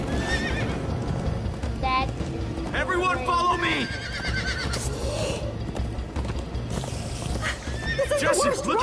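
Horses neigh and whinny with clip-clop galloping hooves in the video game Minecraft Story Mode, loud and close over game music, while someone talks excitedly over them.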